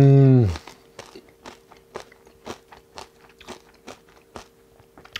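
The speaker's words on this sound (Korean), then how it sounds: "진짜 향긋하고 맛있는 샐러드인데 바삭함까지." Crisp crunching bites of salad, about a dozen steady chews close to the mic, after a brief spoken word at the start.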